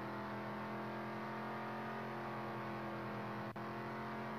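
A rally car engine drones steadily in the driving game Real Rally, holding a constant hum with no big revving changes, and a short click comes near the end.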